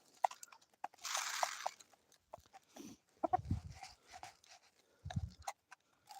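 Chickens peck and eat food scattered on the ground, quiet close crunching and tapping in short bursts with faint rustles between, no talking.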